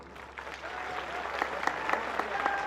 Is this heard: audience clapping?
yes